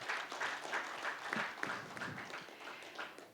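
Conference audience applause rolls on steadily and at a distance, a soft wash of many hands clapping in a large room, with no voices standing out.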